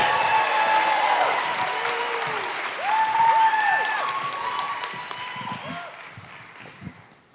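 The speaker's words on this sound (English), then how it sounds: "a big round of applause for our next storyteller, Alisa Zipursky." An audience breaks into sustained applause and cheering for a storyteller at a Moth GrandSLAM event, loud and dense at first, then tapering off toward the end.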